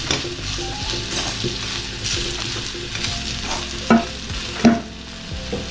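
Chivda frying in a pan sizzles steadily as turmeric is stirred in, with a few sharp scraping clanks of the spoon against the pan rising above the continuous hiss.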